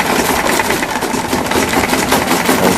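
A sewing machine stitching buba and sokoto, African native men's wear: a steady, fast mechanical whirr with a continuous rattling rhythm, close and loud, running without pause.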